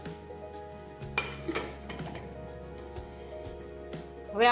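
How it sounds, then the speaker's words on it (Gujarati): A metal pressure cooker lid is set in place and closed on a pot of valol bean curry, making a few close, sharp clanks and clinks, then a louder knock at the end. "હવે આપણે કુકરનું ઢાંકણ છે તે બંધ કરી દઈશું."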